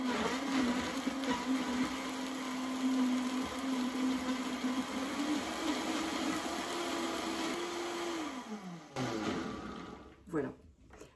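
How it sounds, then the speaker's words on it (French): Blender whirring as it purées crupote ingredients with no added water, a steady motor hum that winds down near the end, then brief restarts, with a voice talking over it. "Là, il suffit juste de mixer et c'est tout."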